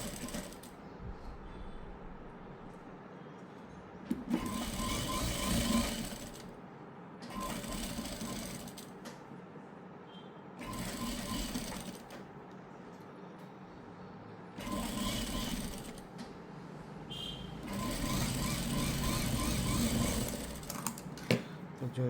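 A sewing machine stitches a blouse neckline in repeated runs of whirring, rattling stitches a few seconds long, separated by short pauses, close and clear, with someone speaking in between.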